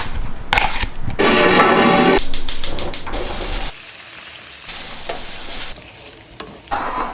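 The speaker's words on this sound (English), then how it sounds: "And now we season soy sauce and honey and mix." Cubes of Spam being stirred with soy sauce and honey in a bowl, giving a loud wet clattering and squelching burst, then quieter scraping and mixing sounds that trail off near the end.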